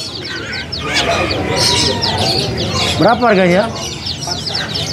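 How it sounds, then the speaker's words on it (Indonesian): A white starling sings among other chirping caged birds at a bird market kiosk in Pasar Pramuka. Its bright, warbling phrase rises clearly near the end, while people talk nearby. "Ini jalak putih yang gacoran."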